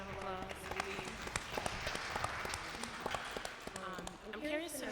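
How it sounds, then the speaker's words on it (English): Audience applause at a late-night show, a moderate wash of claps mixed with voices speaking and cheering through it, fairly faint and steady for a few seconds. "We can give Bernice a round of applause."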